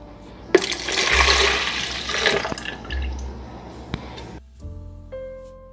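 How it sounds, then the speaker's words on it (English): A cup of lemon juice poured out for Jamaican rum punch, a splashing liquid pour with gurgling and trickling that tapers off, followed by a few small knocks. "First, I'm gonna start by adding 1 cup of lemon juice."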